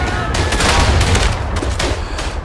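Battlefield gunfire in the World War I video game Verdun: a dense, loud fusillade of overlapping rifle and machine-gun shots with rumbling booms, continuous throughout the short stretch, with no voices.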